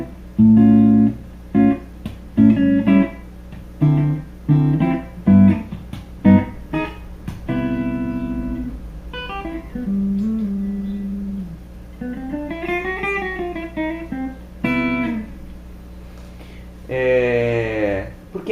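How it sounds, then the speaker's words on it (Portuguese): Clean electric guitar tone: a run of single plucked notes and short phrases, some bent and sliding, each ringing briefly before the next, played alone and fairly close. "O som da guitarra limpa é mais ou menos isso aqui."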